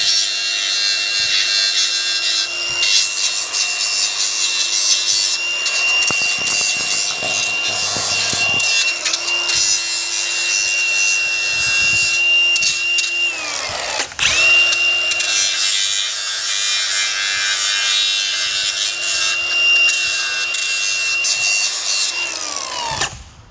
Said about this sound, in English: So let's go ahead and grind these rough edges off.